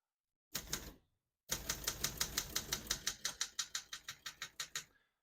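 A single clack, a pause, then a steady run of sharp keystrokes on a 1970 Olympia SM9 portable manual typewriter striking in quick rhythm, close up.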